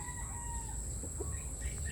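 A junglefowl rooster calls faintly in the distance over a steady outdoor hum and high insect-like whine.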